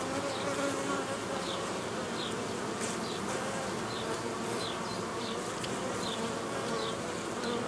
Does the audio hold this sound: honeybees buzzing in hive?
yes